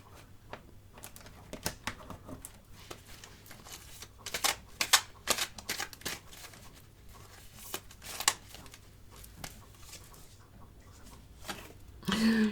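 Tarot cards being shuffled and drawn, with scattered crisp riffles, flicks and slaps of card stock close by against a quiet room, irregular bursts separated by pauses.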